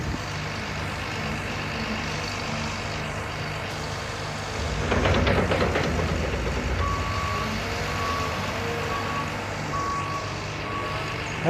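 A loader backs up at a consignee's yard, its reverse alarm sounding a regular series of high beeps over a low diesel rumble, with a brief louder engine surge midway.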